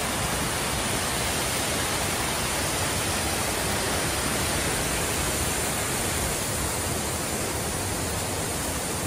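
Shiraito Falls in Karuizawa, Japan, with ice melting nearby, pours as a loud, steady, unbroken rush of water that fills the whole clip, with no voices.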